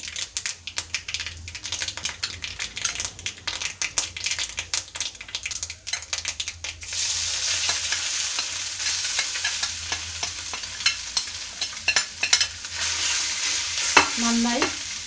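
Crab mixed with ground spice paste and curry leaves roasting in a pan for Kerala crab chammanthi, heard as steady close stirring, scraping and soft sizzling with busy clicking textures, with no speech.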